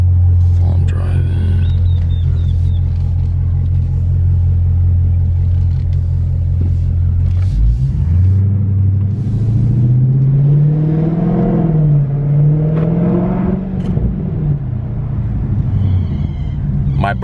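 Engine of a Dodge Charger Scat Pack while driving, a steady low rumble that rises and revs up around the middle as the car accelerates, heard from inside the cabin with faint talk over it.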